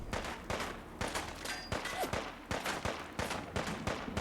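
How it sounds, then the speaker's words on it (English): Enemy gunfire in the video game Fallout 4: a rapid volley of sharp shots in bursts at roughly half-second intervals, moderately loud and close, with no voices over it. "They're blind firing towards me, which is not ideal"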